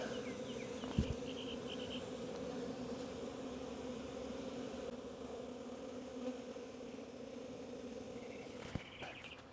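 Many honey bees from a swarm fly around nearby, humming steadily in a constant buzzing drone with a couple of brief knocks and no voices.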